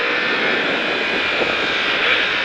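A motorcycle accelerates hard on a race track, its engine a loud, steady, continuous roar held throughout at close range with no voices.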